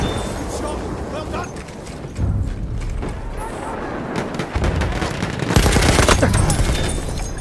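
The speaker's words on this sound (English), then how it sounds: "Enemy machine gun!" In the World War I shooter Battlefield 1, an enemy machine gun chatters amid dense battlefield gunfire, explosions and artillery booms, rising louder toward the end while soldiers shout over the din.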